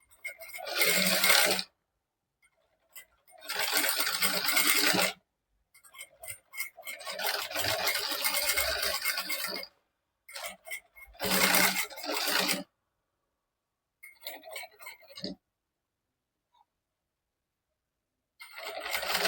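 A sewing machine stitches fabric alongside a silver design on a princess-cut back-open blouse, running in several short bursts of rapid mechanical ticking separated by quiet pauses, each run lasting a few seconds.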